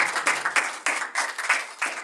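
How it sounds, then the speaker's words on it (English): Brief clapping from a small audience at a religious study session in a cultural center, a short run of rhythmic, fairly close hand claps in quick, evenly spaced bursts. "Big round of applause"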